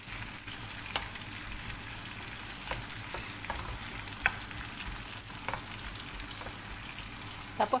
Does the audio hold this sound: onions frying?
yes